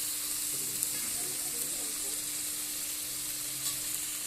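Spice paste for a fish curry sizzles steadily in oil as hot water goes in, a broad continuous frying hiss at moderate level with no talk.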